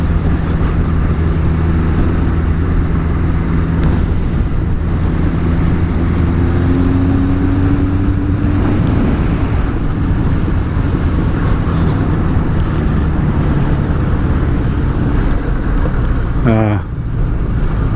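A Suzuki GS1000 motorcycle engine runs steadily and loud up close, its tone rising briefly as the revs climb, then settling back to a continuous idle rumble with a short sweep near the end.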